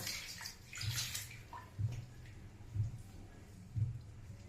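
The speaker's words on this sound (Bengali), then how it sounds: "এবারে একে জল দিয়ে একটু ঠান্ডা করে নিই" Water is poured to cool cooked food in a kitchen, making a soft continuous splash and trickle with faint periodic thumps, quiet and close.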